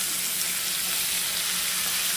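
Okra pieces sizzling in hot oil for a mutton, okra and tomato stew, a steady broadband hiss held evenly through the moment without talk.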